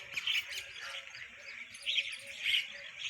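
A flock of myna birds in a millet field gives harsh squawks and chattering chirps in overlapping bursts, fairly close and rising and falling in loudness.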